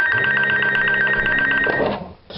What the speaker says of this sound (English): I'm about to put this phone on silent.